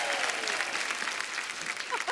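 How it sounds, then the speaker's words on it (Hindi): Studio audience applause on a Hindi comedy talk show with playback singers, a dense steady patter of clapping held at an even level throughout with faint voices mixed in. "हमारे कैमरामैन, उनके लिए ताली।"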